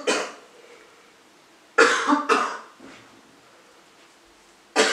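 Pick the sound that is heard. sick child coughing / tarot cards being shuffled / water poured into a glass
sick child coughing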